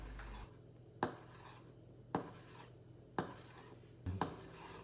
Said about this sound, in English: You're pushing the knife through the thing you're cutting.